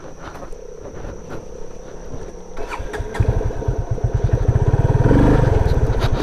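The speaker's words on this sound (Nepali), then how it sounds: "यस बाइकहरू टन्नै आउँदो रहेछ" Motorcycles on a road in heavy rain roll past, their engines building from a distant drone to a loud, close, rapidly pulsing roar.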